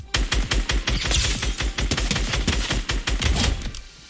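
A SCAR assault rifle in Fortnite fires nonstop in a rapid, evenly spaced stream of sharp, loud cracks, about two dozen shots, close and with no talking over them.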